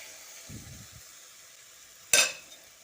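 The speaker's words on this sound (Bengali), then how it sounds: "তারপর আবারও ভালোভাবে মিশিয়ে নিচ্ছি সর্ষের তেলটা দিয়ে" Tomato curry being stirred with mustard oil in a pan: a short soft scraping of the spoon, a quiet pause over faint sizzle, then one sharp metallic clink against the pan.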